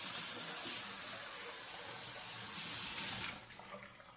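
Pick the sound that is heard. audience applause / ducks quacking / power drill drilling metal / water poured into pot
water poured into pot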